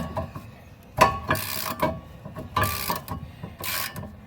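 Ratchet wrench breaking loose a thread-locked rear brake bolt on a Volvo S60, heard as a few loud, close metallic clicks and strained bursts in irregular spurts, no talking.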